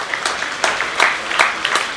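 Moderate audience clapping at a National Science Day lecture as a professor is welcomed to the podium, scattered sharp claps over a soft background of hands.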